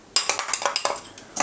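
Chana dal being dry-roasted in a pan, heard as a quick run of about nine sharp scraping clinks from a utensil against the metal, close and fairly loud, with no voices.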